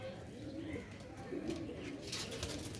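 Soft, low cooing from a grey Sialkoti pigeon, faint and close, with some light background murmur.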